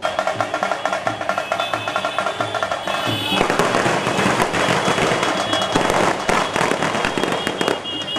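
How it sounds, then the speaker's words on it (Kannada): Firecrackers burst in a dense, continuous crackling barrage at a celebratory welcome outside an Anjaneya temple in Mandya, sharp popping growing louder and thicker midway and rattling on without pause. "ಕಾರ್ಯಕರ್ತರು ಪಟಾಕಿ ಸಿಡಿಸಿ ಅದ್ದೂರಿಯಾಗಿ ಸ್ವಾಗತಿಸಿ"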